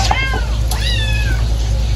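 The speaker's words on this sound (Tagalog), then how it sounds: "Ay, naku mga pusa natin." A cat meows close by, two drawn-out rising and falling cries in quick succession over a low steady background hum.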